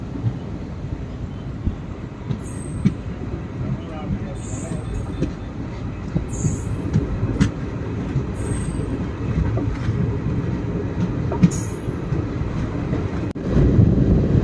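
A passenger train on the Salem–Karur–Trichy line pulls out of Kalangani station with a steady low rumble of wheels and carriages. Brief higher squeals and clanks come now and then, and the rumble swells toward the end.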